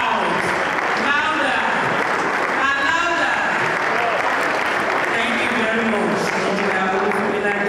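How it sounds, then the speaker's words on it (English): Loud audience applause at an engineering conference in Ilorin, sustained clapping throughout with cheering and voices mixed in. "A round of applause for her again. Make it loud."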